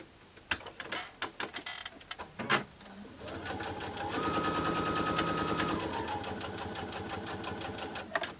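A sewing machine stitches mini quilt pieces together, a few sharp clicks and taps giving way to a steady, rapid mechanical rattle that runs for several seconds, close and fairly quiet.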